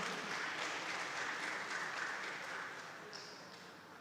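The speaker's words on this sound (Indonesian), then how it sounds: "Tepuk tangan yang sangat meriah untuk Bapak Menteri." An audience at the opening of a green tourism seminar and entrepreneurship expo applauds the minister, a steady wash of many hands clapping that slowly fades toward the end.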